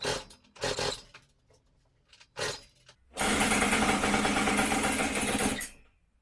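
A Big Wheel 80 engine, imported from Canada, after carburettor work with the choke on: a few short loud cranking bursts, then it catches and runs with a steady rough buzzing rasp for a few seconds before cutting out.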